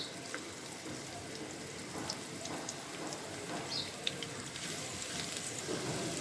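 Chopped onion fries lightly in a pan for a boal fish curry, giving a faint, continuous crackling sizzle with scattered small pops and no talking.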